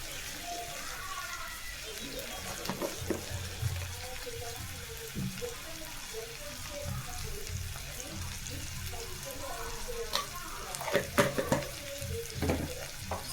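Vegetables being stirred with salt in a cooking pan, giving a soft steady sizzle with scraping and clinking of a spoon against the pan, and a louder burst of stirring near the end.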